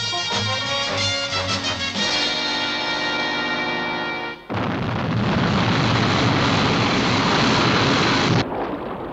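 The Sky One interceptor from the UFO series lifts off with a layered harmonic engine whine, then bursts into a loud, steady broadband roar that holds for several seconds before cutting off abruptly.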